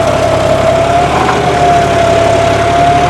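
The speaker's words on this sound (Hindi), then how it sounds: "वही कल्टीवेटर, उतना वही गियर और वही आरपीएम ट्रैक्टर के, और ये देखो खींचने लग रहा है जबरदस्त इसको" A John Deere 5210 tractor works in four-wheel drive, pulling a cultivator through a field. Its engine drones loud and steady at constant RPM, very close, with a faint whine running over it.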